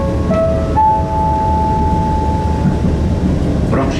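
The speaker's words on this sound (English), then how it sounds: "But if the train comes, I have no idea which one." A train rumbles steadily close by on the Camino del Norte route in northern Spain, with a long high-pitched squeal of brakes or wheels on the rails as it rolls into the station.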